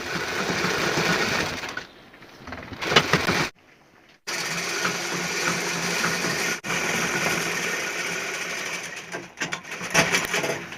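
Sewing machine stitching the hem of a salwar, a steady fast whirring run that stops briefly and restarts several times, close and continuous.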